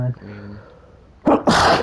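A person sneezes sharply twice in quick succession, loud and close, right after a brief spoken phrase.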